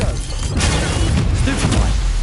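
A blasting spell cast in the Hogwarts Legacy game, heard as a loud, dense burst of crackling explosive noise that carries through the short clip, with broad rumbling impacts and no talk.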